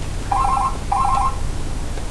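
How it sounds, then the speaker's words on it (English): A telephone rings twice in electronic warbling bursts over a steady low background hum, with no one speaking. "I'm not answering the phone right now"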